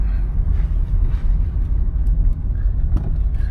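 A 1991 Toyota Camry with only 29k original miles and new tires drives along a road. A loud, steady low rumble of engine and tire noise fills the clip without pause.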